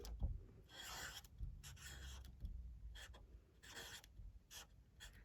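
Pen or pencil scratching across paper in several short bursts with pauses between strokes, close and quiet, with no talking.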